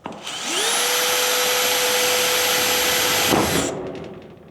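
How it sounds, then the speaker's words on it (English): Melco hole cutter spinning up and cutting a hole in a porch ceiling, a loud steady high whine that starts abruptly, holds for about three seconds, then winds down with a rasping cut at the end. "First, we punch a hole right in the center."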